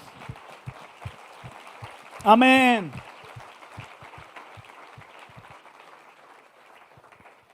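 A church congregation gives scattered, fairly faint applause, heard as sparse soft claps spread across several seconds, with a short loud sung or spoken exclamation in the middle.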